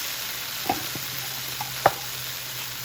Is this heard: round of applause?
no